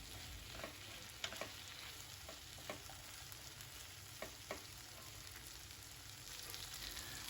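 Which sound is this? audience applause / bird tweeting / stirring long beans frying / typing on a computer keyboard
stirring long beans frying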